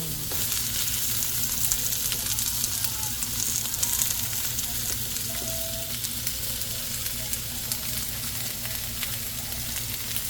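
Onion fries in a pan alongside tofu, a continuous close sizzle and crackle with occasional light scraping, steady and moderately loud throughout.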